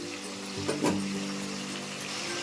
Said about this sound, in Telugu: ఈ నూనెలో వేసుకోవాలి ఇలాగే మనం వేయించుకోవాలండి అన్ని ముక్కలు వేసుకొని